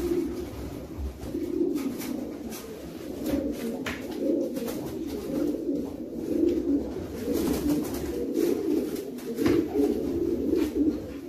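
A long and medium distance breeder hen racing pigeon coos in repeated soft, throaty phrases, close and clear against faint background noise.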